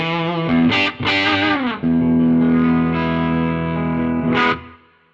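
A Les Paul-style electric guitar with Lawler humbuckers plays clean through a vintage amp without any pedal, ringing out with sustained chords and a few brighter struck notes, loud and close with no talking.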